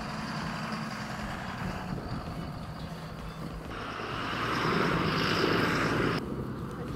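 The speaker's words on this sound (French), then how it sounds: "nous sommes interrompus par un magnifique tracteur de je sais pas quelle marque" A large farm tractor passes nearby, a steady broad engine drone that swells louder midway and then eases off, with no talking over it.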